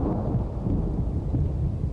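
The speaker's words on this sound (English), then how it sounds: "We're getting away from the thunder." Rolling thunder rumbles in a Minecraft horror world, a continuous low, loud roar sustained throughout with no voices.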